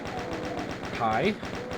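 Rapid automatic gunfire from a DOOM mod, a fast regular burst of shots over a continuous stretch with a brief tonal flourish of game effects in the middle, close and fairly loud.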